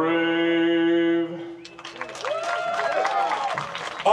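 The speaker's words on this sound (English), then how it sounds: "another nice round of applause" An outdoor crowd at a marketplace chainsaw woodcarving event breaks into applause and cheering right after a sung anthem's sustained final note, the clapping building into a dense wash of hands and voices.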